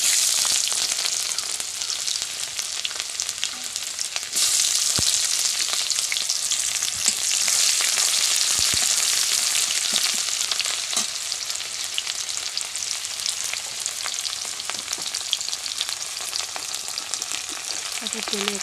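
Two dried red chilies and a little cumin frying in hot oil, giving a loud continuous sizzle that swells partway through, with occasional crackles and stirring clicks; no talking.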